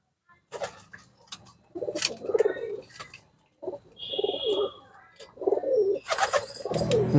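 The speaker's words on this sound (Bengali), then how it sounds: "এখন সব পায়রাগুলো ডাকাডাকি করবে" Pigeons coo in low, throaty bursts around their loft after an evening feeding, with a brief whistling call partway through and clattering wing or foot noise at the end.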